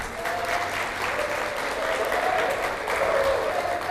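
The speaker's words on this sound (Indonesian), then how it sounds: "marilah kita beri tepuk tangan yang meriah kepada kedua peserta" Audience applause at a university student law debate semifinal, steady dense clapping filling the whole stretch at a fairly even level, with faint voices mixed underneath.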